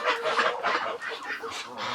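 Roosters and a female Muscovy duck in a farm pen in cold, snowy weather give off a steady run of honking, clucking fowl calls, moderately near and overlapping, with faint background noise.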